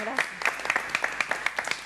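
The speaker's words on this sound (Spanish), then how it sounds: "Este aplauso es para ustedes, ¿eh?" A studio audience on a TV programme gives a short burst of quick, light applause, rapid overlapping claps at moderate volume with a faint background hum.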